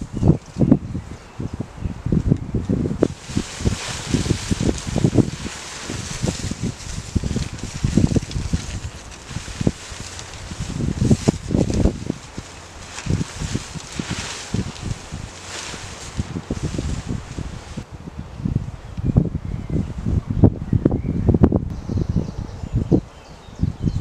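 Wind gusts through trees at an outdoor hammock campsite, making loud, uneven rushing and rustling bursts with rumbling buffeting across the microphone.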